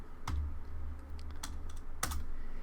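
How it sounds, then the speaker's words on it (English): Typing on a computer keyboard, close and fairly clear, with a few sharp key clacks spaced irregularly over a low steady hum and no voices. "Now if you come over here and you type"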